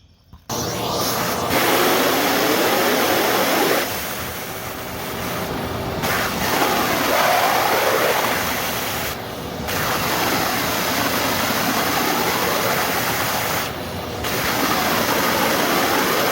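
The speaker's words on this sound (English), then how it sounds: "The vacuum's loud." While an inground pool is winterized, a shop vac roars nearby as a loud, steady broadband whoosh that holds for the whole stretch, with a few brief dips and surges in its pitch and air flow and no talking.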